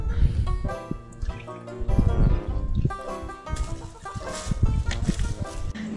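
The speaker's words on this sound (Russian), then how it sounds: "Мы купили 2 куриц, и, скорее всего, они не знают, что такое гулять." Two chickens cluck in short bursts close by, with other layered sounds mixed in around them.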